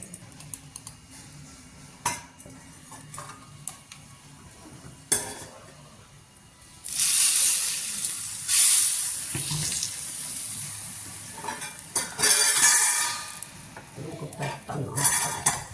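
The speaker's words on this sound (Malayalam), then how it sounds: "ഉലുവാപ്പൊടി ഇട്ടാൽ ഉടനെ അങ്ങ് ഇളക്കണം." Fenugreek powder is stirred in a hot stone pot (kalchatti) for a simple moru curry, giving scattered scrapes and knocks that swell into soft, washy bursts midway, with no talk.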